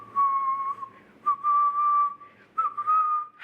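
A person whistles a wavering, breathy tune up close, several sustained notes broken by short gaps, slightly unsteady in pitch as if struggling to hold it.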